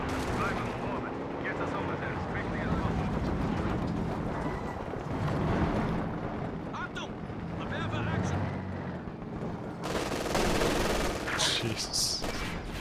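Machine gun fire rattles in the real-time strategy game Company of Heroes 2 as troops run into an MG position, a dense continuous battle din of gunfire and explosions that grows louder toward the end, with someone talking over it.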